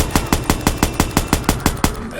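Gunfire from a gun in multiplayer Watch Dogs, about eleven evenly spaced loud shots in a quick steady rhythm, close and sharp.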